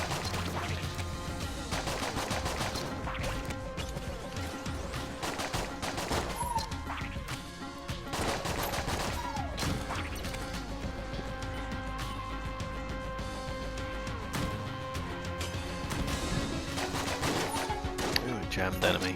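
Starter pistol shots in a roguelike shooter game, with busy in-game action of repeated gunfire cracks and crashes over a dense music bed, running steadily throughout.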